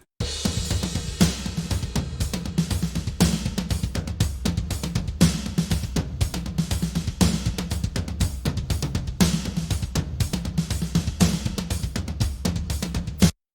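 A drum kit processed through the Scheps 73 console emulation plugin plays a steady, driving beat with thumping kick, cracking snare and constant cymbal wash, close and full, no voices.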